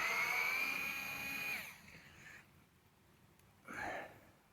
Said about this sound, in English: Now you got to take out this screw right here.